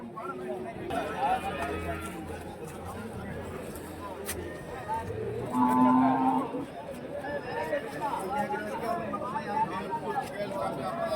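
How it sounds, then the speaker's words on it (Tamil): A large Jersey cow at a busy cattle market gives a long low moo midway, amid steady crowd chatter and livestock bustle. "நல்லா ஜெர்சி மாடு, நல்லா வந்து பெரிய மாடாவே இருக்கு."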